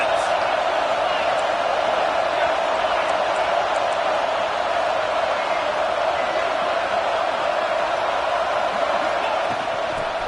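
Stadium crowd at a Wisconsin vs Ohio State college football game, a steady, dense roar of many voices with occasional whoops that holds the same level throughout.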